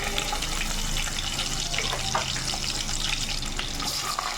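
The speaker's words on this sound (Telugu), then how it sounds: "నూనె వేసుకున్న తర్వాత జీలకర్ర వేసుకోవాలి దాని తర్వాత ఎల్లుల్లి వేసుకోవాలి" Garlic and cumin seeds frying in hot oil in a pot, a dense, steady crackling sizzle heard up close and continuous, with no voices.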